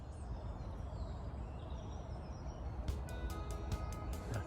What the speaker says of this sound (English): That bird chinking down there.